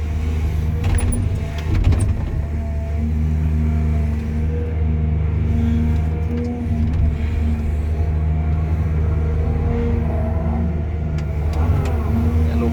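A car drives along with a steady low engine rumble and road noise, a few light rattles and small clinks, and faint talk underneath.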